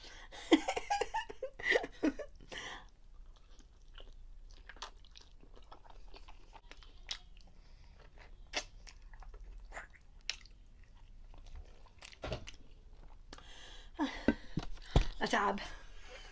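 Iraqi pacha being chewed up close, with soft wet munching and occasional crunchy bites spread across the stretch, mixed with intermittent talking and light laughter.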